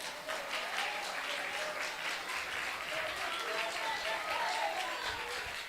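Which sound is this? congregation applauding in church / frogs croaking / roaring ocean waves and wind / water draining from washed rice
congregation applauding in church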